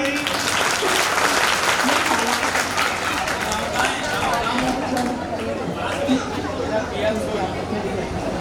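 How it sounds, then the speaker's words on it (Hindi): A crowd at a community get-together claps steadily and loudly throughout, with a constant layer of voices and chatter mixed into the applause. "मैं छोटी ताली बजाओ ना भाई।"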